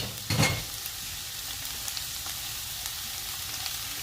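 Chopped onions dropped into a pan for chili give a brief clatter, then a steady, even sizzle as they fry, close and moderately loud with no voices.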